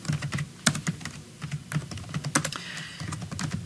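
Keys tapped steadily on a computer keyboard while entering a name as a digital signature, a close, irregular run of clicks with a few sharper strokes and no talk.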